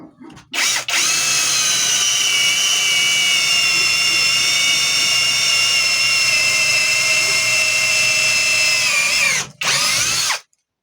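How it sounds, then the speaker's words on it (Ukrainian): A PRO CRAFT PA18Pro cordless drill bores through metal with a 10 mm bit, giving a loud, close, steady high whine for about nine seconds before stopping abruptly, with a short burst again near the end. "Бачите, просверлило сверлом по металу."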